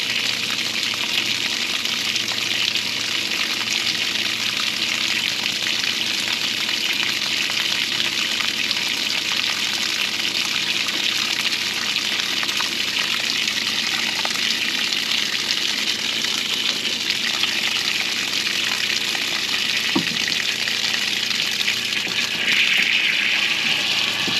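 Water runs steadily through the pump of a homemade camp trailer's water system, a constant loud rushing hiss with no pauses, close by and unchanging throughout.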